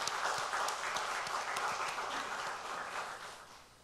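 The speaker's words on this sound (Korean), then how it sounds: "다시 한번 우리 하나님께 영광의 박수 한번 돌려드리겠습니다" A church congregation at a service in Pyeongtaek claps together in a moderate round of applause, with crisp hand claps standing out early before the sound gradually fades.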